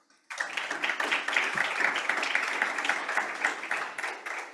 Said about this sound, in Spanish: lo único que pido es un aplauso para Daniel Millor